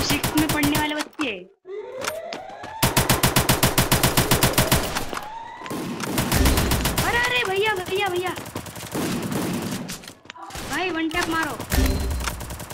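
Rapid bursts of automatic gunfire from the Garena Free Fire battle game rattle in short and long volleys, with excited voices talking over and between the shots.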